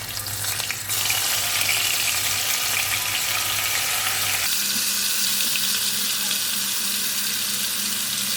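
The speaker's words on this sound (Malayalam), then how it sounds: "ചൂടായ എണ്ണയിലിട്ട് ഫ്രൈ ചെയ്യാം." Cheesy chicken packets dropped into hot oil, setting off a loud, steady bubbling sizzle that changes abruptly partway through and then carries on evenly close by, with no voices.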